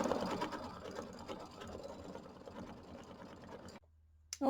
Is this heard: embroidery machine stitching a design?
yes